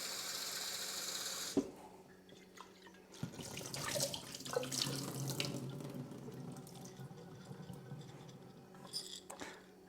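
Wheatgrass seeds rinsed under running tap water, a steady splashing flow with a few clatters and bumps of the container, fairly close.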